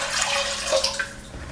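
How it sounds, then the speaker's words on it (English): A cup of water is poured into a cooking pot holding tomatoes, cashew pieces, cardamom, cloves and a bay leaf for butter chicken. The pour is brief, with a soft, steady splashing trickle lasting about a second and a half. "Pour 1 cup of water."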